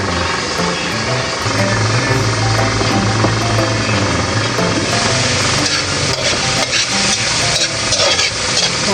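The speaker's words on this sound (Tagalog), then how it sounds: "Haluin po natin paminsan-minsan at baka po masunog ng ating kamatis." Tomatoes cooking down in a pot bubble and sizzle loudly and constantly, with stirring scrapes and clatter, over a steady engine-like background drone.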